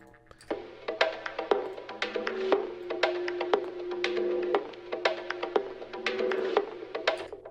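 Bongo rhythm sample from an EP, a busy pattern of sharp hand-drum hits over a low sustained tone and a ringing melodic layer, steady and fairly quiet with no voices.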